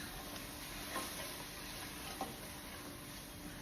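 Dhal curry being stirred in a pot, a faint, steady sizzle with a couple of soft scraping knocks from the spoon, heard alone with no talking.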